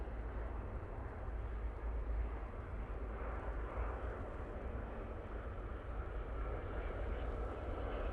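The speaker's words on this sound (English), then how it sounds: "This is the Junyao 787-9 Dreamliner." A Junyao Airlines Boeing 787-9 Dreamliner in Chinese Peony livery landing at Manchester Airport, heard as a steady, broad engine roar with deep low rumble that holds evenly throughout, no talk.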